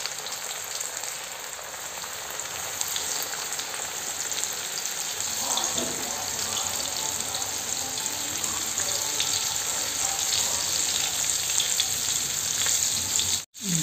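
Fish fillets fry in oil on an iron pan over lowered gas for a crispy fish fry, sending up a loud, continuous hiss and crackle that barely changes, with no talking over it.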